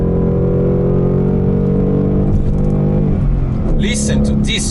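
Loud Ford Mustang GT 5.0 V8 engine revving up close, a sustained roar that climbs and then shifts pitch as it winds down.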